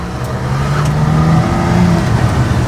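Engine of a mini truck fitted with a custom exhaust, heard from inside the cab as a steady, fairly loud low drone with slight revving swells and no talk.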